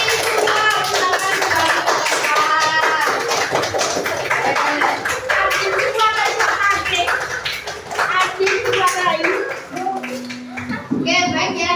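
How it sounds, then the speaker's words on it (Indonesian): Classroom of children clapping for a student group, rapid loud patters of hands mixed with excited children's voices and chatter throughout. "kita beri tepuk tangan untuk kelompok visual"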